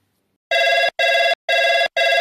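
A telephone rings out to a guest being called, four loud, clear electronic ring bursts in a steady on-off rhythm with short gaps between, no voices.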